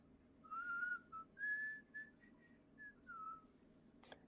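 A person whistles a faint, breathy tune of several separate sustained notes with small pitch glides, heard alone against quiet background noise.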